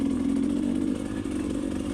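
A 2022 GasGas EC300 two-stroke dirt bike engine runs at a steady mid-range drone with a slight dip partway through, close and fairly loud, with no talk.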